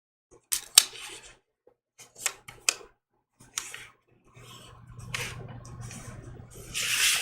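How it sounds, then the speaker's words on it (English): Scissors trimming excess quilt fabric along a sewn line on a small foundation-paper-pieced block, giving several short close snips and rustles with pauses between, followed by a stretch of steady fabric rubbing and handling. "I'm going to go ahead and trim up the extra fabric right along this line here."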